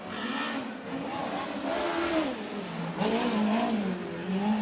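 A USAC midget race car laps the Merced Speedway dirt oval, its engine droning in rising and falling revving sweeps through the turns, loud and fairly close throughout with no voices.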